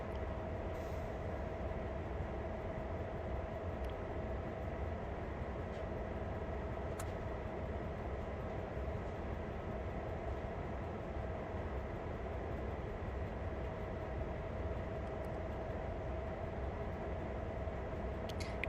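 A heavy CSX freight train rumbles steadily along the rails in the Train Simulator World game, a constant low mechanical drone with a faint whine and occasional clanks, no voices.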